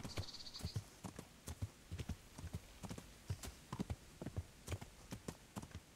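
Horse in the Kingdom Come Deliverance video game trots with steady, rhythmic clip-clop hoofbeats, crisp and evenly paced, faint overall with no talking.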